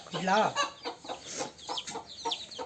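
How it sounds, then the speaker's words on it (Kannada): A small chicken chick in a village cheeping with high, wavering peeps, near and fairly loud at first, then softer calls mixed in with people talking nearby. "ಅಯ್ಯೋ ಪುಟಾಣಿ ಕೋಳಿ ಮರಿ ಎಷ್ಟು ಚೆನ್ನಾಗಿದೆ"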